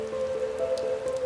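Heavy typhoon rain from Typhoon Uwan patters steadily on a surface for a brief moment, with a continuous hiss under a faint constant tone.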